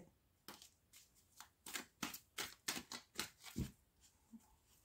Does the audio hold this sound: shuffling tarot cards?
yes